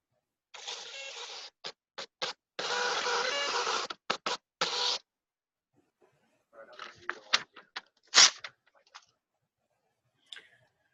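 An office printer turns out customer copies in bursts of rasping, scratchy feed noise, pausing between pages and ending in scattered clicks and ticks, close by and without talk.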